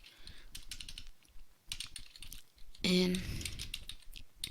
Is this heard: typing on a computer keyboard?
yes